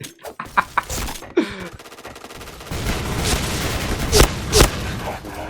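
Gunfire in a shooting video game, several sharp shots scattered through the passage, the loudest two near the end, over a busy background of game noise.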